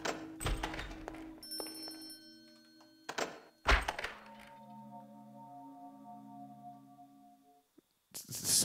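In the Thief II video game, an arrow strikes the player with sharp thunking impacts, followed by lingering ringing, bell-like tones and a sustained low hum, loud and close with brief pauses and no speech.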